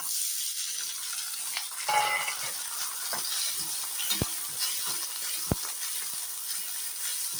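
Onions fry with garlic in a pan for a South Indian curry, giving a steady, moderate sizzle and hiss with occasional light stirring clicks and scrapes.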